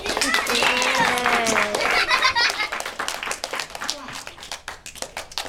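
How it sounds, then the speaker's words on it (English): A crowd applauds Senior Bruce Bray at a magic show, the clapping loud at first and then thinning to scattered claps, with laughter and voices mixed in. "Give him a big round of applause."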